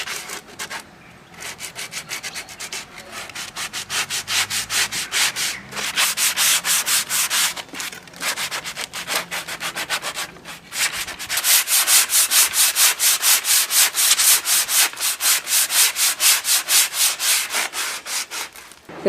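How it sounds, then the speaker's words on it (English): A coarse sanding block rubs down the rough, furred edges of an outdoor wooden table, making loud, close, rhythmic back-and-forth scraping strokes that run steadily with brief pauses and no talking. "we're using a coarse sanding block to rub down all of the rough furred edges all along all the sides of it"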